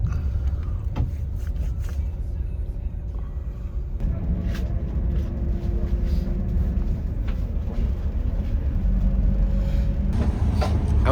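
A first-class Harapan Jaya intercity bus from Jakarta to Blitar crawling in a traffic jam, with a constant low engine and road rumble filling the cabin and no break in the drone.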